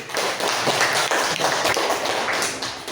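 Classroom applause: a steady, dense wash of hand claps from a group of students, loud and close, lasting the whole stretch without any voices.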